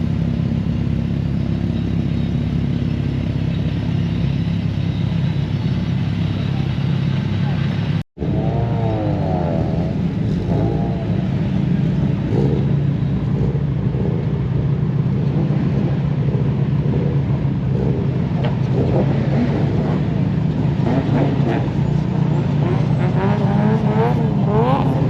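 High-powered JDM drift cars roar continuously at Driftland in Scotland during a Dorifest event, a loud, dense wall of engine noise with one brief dropout partway through.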